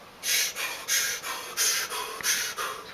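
Deliberate deep breathing by a man: several strong, close, airy breaths in and out at an even rhythm, with no talk.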